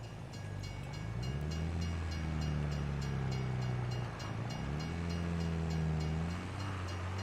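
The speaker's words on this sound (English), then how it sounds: "here comes the train" A train in Farming Simulator 22 rumbles through a railroad crossing, a steady mechanical drone with wavering low engine tones and a faint chiming crossing signal, moderately close and sustained throughout.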